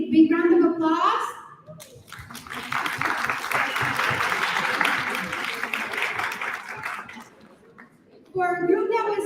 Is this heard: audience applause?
yes